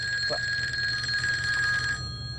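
A telephone rings in a comedy sketch scene: a steady electronic warbling ring held for about two seconds before cutting off, fairly loud against a low background hum.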